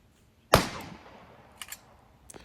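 A pistol shot cracks sharply during a shooting match stage, loud and close, followed by a decaying echo and a few fainter, distant pops afterward.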